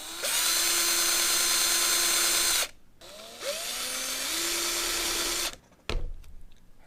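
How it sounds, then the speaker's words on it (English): A power drill whines at full speed for a few seconds, stops, then spins up and drills again into a table, ending with a short clunk. "Well, let's drill some more holes."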